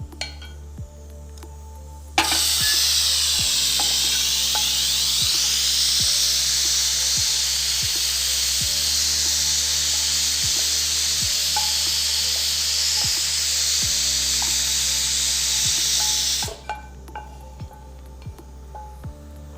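A kitchen mixer grinds oil-fried masala spices, ginger, garlic, cinnamon, cloves and coriander seed with a little water for a Bengaluru street-style mutton leg soup, running as a steady, loud, high whir for about fourteen seconds before cutting off.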